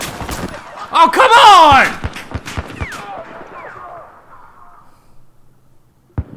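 Light machine gun fire in Battlefield 4 on Xbox One: a dense burst of loud gunfire and explosion-like noise early on, then a slowing series of single sharp reports, and a final pair of shots after a lull, with someone shouting over the action.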